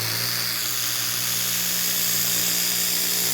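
A nano long-neck polisher whines steadily while compounding paint on a BMW F10 M5, a constant high-pitched motor drone with a low hum beneath, close and loud with no talking.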